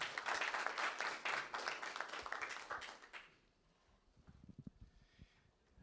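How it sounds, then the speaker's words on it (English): A conference workshop audience claps in welcome, a burst of loose, fairly close hand clapping that fades after about three seconds into quiet room noise with faint thumps. "You can clap your hand."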